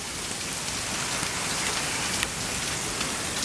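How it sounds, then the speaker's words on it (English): Steady rain falls hard and close, a dense, even hiss of drops spattering on surfaces with no voices. "You see it raining?"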